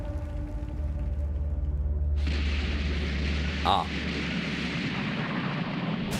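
A big explosion bursts out in a Dragon Ball video game trailer, a sudden loud boom that swells into a sustained roaring rumble. A second sharp burst hits partway through, and a person speaks briefly over it.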